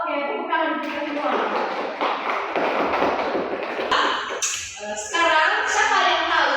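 A classroom group claps together in a burst of applause, loud and close, with scattered taps and children's voices mixed in.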